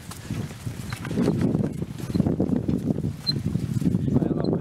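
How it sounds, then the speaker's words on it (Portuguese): Horse hooves clip-clopping as the animal pulls a carriage on a farm hotel ride, a steady close patter of hoofbeats under light background noise. "Gente, agora tô andando em charrete."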